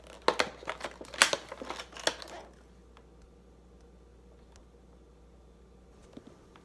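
Close crinkling and tearing of tape-wrapped packaging as Dollar Tree decor items are pried open, a cluster of sharp crackly rustles over about two seconds, then near silence with a few faint ticks.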